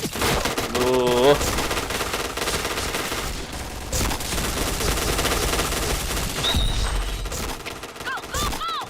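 Rapid automatic gunfire from the Point Blank shooter video game, loud, dense bursts running almost continuously over busy game sounds and music, with a brief voice interjection early on.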